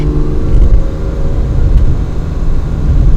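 A 1967 Ferrari 330 GTC's engine runs steadily up front, giving a dense, continuous low mechanical rumble with a faint whine. It is heard from inside the car at a constant level, with no voices.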